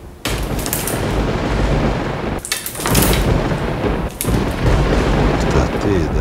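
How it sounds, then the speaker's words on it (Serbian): Thunder samples triggered on homemade electronic drums roll out as loud, booming rumbles, with three crashing strikes in quick succession, each swelling and fading into the next. "napravio sam da mogu da sviram gromove."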